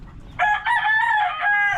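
A rooster crows once, a loud, close, drawn-out cock-a-doodle-doo with a slight break in the middle, over quiet background.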